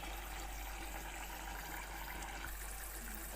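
Dissolved tamarind water poured into a simmering drumstick curry, a steady close liquid gush and sizzle with no pauses.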